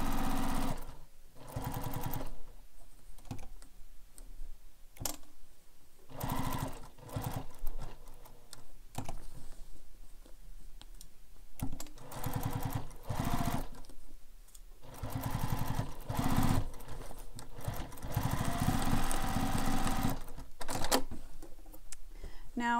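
Sewing machine stitching a handmade carryall bag around its sides and across the bottom, running in short repeated bursts with pauses between.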